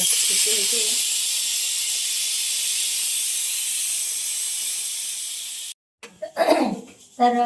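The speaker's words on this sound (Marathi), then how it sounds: "आता आपल्याला शिट्ट्या निदान चार पाच तरी घ्यायच्या आहे छान शिट्ट्या होतील" A kitchen pressure cooker cooking soaked pigeon peas lets out a long, loud, steady steam hiss for several seconds, then stops abruptly, followed by brief clattering and someone speaking.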